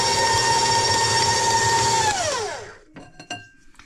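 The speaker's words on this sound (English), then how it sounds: "And now we'll bring up the beater. Let it beat for a few minutes." A stand mixer beater whirs steadily through pound cake batter, a loud, even motorized hum that winds down and stops, followed by a few faint clanks.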